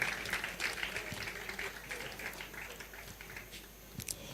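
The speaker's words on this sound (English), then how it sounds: "That deserves a round of applause," Audience applause at a smart farming event, a faint steady patter of clapping from a crowd, continuous and distant.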